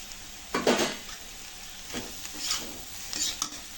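Eggs frying in a pan for egg fried rice, with several bursts of sizzling and stirring scrapes at close range and no talking.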